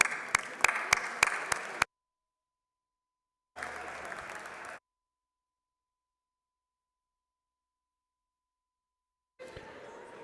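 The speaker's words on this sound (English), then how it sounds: "Another round of applause." Applause in a state House legislative chamber, clapping in bursts with sharp individual claps at first, then brief spells of crowd clapping separated by silence.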